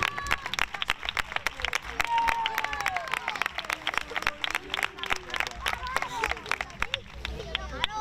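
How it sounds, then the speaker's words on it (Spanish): Applause and scattered clapping from a crowd at a youth club's end-of-season trophy ceremony, with sharp claps layered over chatter and whistles that runs steadily throughout. "Un aplauso, Pepe."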